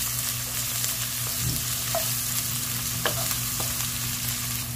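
Baguio beans fry in a pan with a steady, moderately soft sizzle, broken by a few light scrapes and stirs against the pan over a low background hum.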